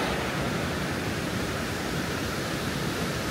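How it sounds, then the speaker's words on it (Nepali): A waterfall in Yosemite National Park cascades down, a constant, dense roar of rushing water with no breaks or voices. "माथिको झरना"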